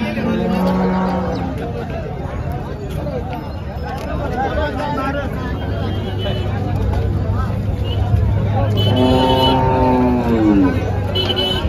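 Cattle at a busy cow market, with several loud close moos rising over a constant crowd babble and nearby talking, plus faint vehicle noise.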